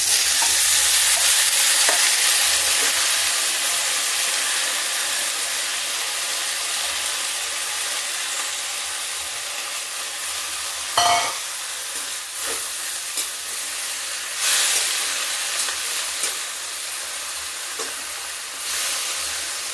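Garlic fries in hot oil with a loud, hissing sizzle, then greens are dropped in and stirred, the sizzle briefly flaring and easing into steady frying with occasional scrapes.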